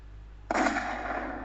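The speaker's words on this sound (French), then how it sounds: "Un coup de feu?" A single sharp gunshot in the visual novel game Dangerous Love cracks out suddenly and loudly, then a sustained noisy roar lingers behind it over a low background hum.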